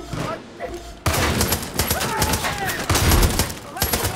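Gunfire in Far Cry 5, including shotgun blasts: a dense volley of sharp, rapid shots from close range, mixed with game effects, while someone talks over parts of it.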